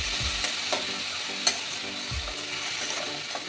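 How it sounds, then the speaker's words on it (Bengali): Soaked chana dal fries with partly cooked jackfruit in a pan, giving a close, continuous sizzle with soft stirring scrapes and light clicks of a spoon. "এই ছোলার ডালটা দিয়েও আর একটু ভেজে নেব"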